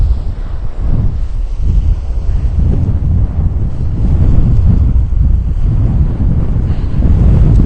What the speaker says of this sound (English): that wind is hitting my face